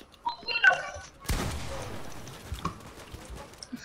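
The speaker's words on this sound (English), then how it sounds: "Stop shooting at me." Gunfire in the video game Fortnite during arena gameplay: a sharp burst hits after a few faint shots, then scattered pops and clatter follow, while a player talks at the start.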